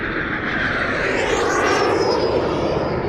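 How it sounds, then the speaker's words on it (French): Airplanes crossing the sky, a steady roaring engine drone that swells and sweeps as the aircraft pass overhead, loud and unbroken with no voices. "Des avions traversent le ciel."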